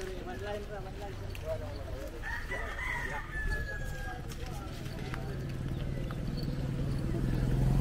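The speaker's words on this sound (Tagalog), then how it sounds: "Manok, chicken." A rooster crows once in the middle distance over steady background noise and murmuring voices, near Kawasan Falls in Cebu, Philippines.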